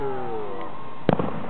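A single sharp black powder firework burst pops at a distance, followed by brief crackling, after a lingering tail of an earlier explosion.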